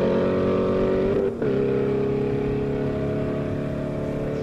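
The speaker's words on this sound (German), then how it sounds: "Das ist der BMW M2 mit 620 PS." A BMW M2 race car tuned to 620 hp roars past at a rolling-start drag event in Lahr. It holds a loud, sustained engine note, briefly dips as it shifts gear, then pulls on at high revs.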